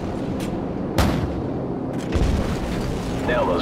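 Explosions in the Call of Duty 4 video game, two or three sharp booming blasts with rumbling decay over a low background, without speech.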